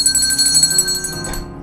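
A big bell rings with a resonant, sustained metallic tone that decays over a short moment, loud and close with no talking.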